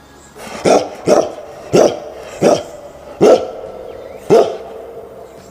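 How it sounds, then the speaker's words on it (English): A dog barks six times in a steady, evenly spaced series of loud, close single barks with quiet pauses between them, and no voices are heard. "D for dog"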